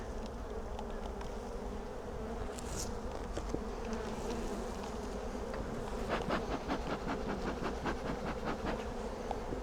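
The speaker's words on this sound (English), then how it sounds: "Must mean there's quite a few bees in here." A dense, steady buzz of many bees in a hive fills the clip, with overlapping wingbeat drones and occasional sharper close passes, continuous throughout.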